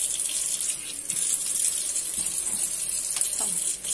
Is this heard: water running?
yes